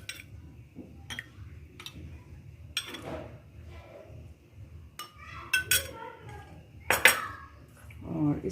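Ice cubes drop into a glass for a summer sugar-cane cola, giving several sharp separate clinks and knocks spread across the clip, the last ones louder, over a quiet kitchen background.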